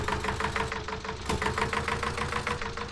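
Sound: Eicher 241 tractor engine pulling trolley, from the video game Farming Simulator 19

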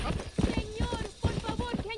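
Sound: horse hooves galloping in video game Red Dead Redemption

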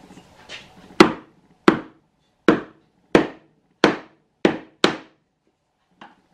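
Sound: wooden dowels being tapped into drilled holes

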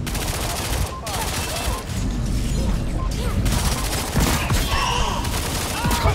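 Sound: gunfire in the video game Lawbreakers

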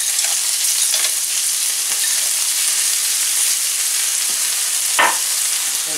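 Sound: peppers and peas cooking in pan for seafood paella

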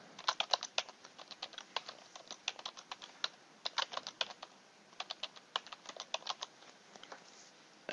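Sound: typing a password on a computer keyboard

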